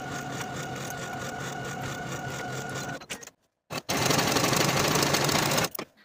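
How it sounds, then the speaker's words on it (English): A sewing machine runs steadily along a sleeve underarm seam for about three seconds, stops briefly, then starts again for another two-second run. The motor whirs loud and close. "Sew the underarm seam with a 5/8 inch seam allowance and finish the seam."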